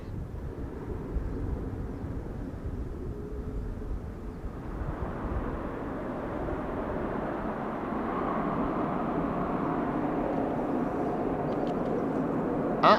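An unseen aircraft near the Schiphol Airport runway, beside a potato field, builds from faint to a broad, steady roar over several seconds, distant but growing louder.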